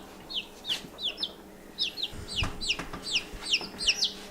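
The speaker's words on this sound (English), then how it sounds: "Is that a baby chicken?" Baby chicks peep in a rapid series of high, bright chirps, close and steady, with some handling noise from a backyard.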